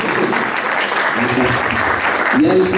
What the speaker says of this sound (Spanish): Pásenle un aplauso, por favor, para él